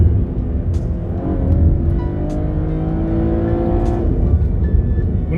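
A Cadillac ATS with a naturally aspirated V6 revs loud and close, the engine note climbing and falling in several sweeps toward high rpm, with no talk over it.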